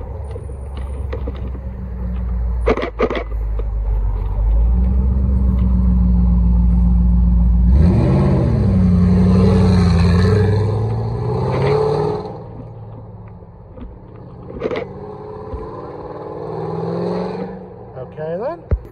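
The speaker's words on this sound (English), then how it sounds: "Another Ford GT." A Ford GT supercar on the street in Alderley Edge rumbles closer, then swells into a loud rev as it passes nearby and fades away, with people talking around it.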